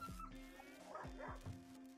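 A dog in the RimWorld video game gives a few quick yips and short whimpering barks, faint and brief, with a low game hum underneath.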